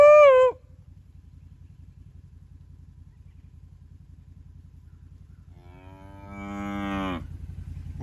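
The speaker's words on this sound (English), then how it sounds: "These are a few of our cows." Cattle on a 40-acre farm in Northeast Oklahoma, with one short moo close up at the start and a longer, drawn-out moo a few seconds later, over a low steady background hum.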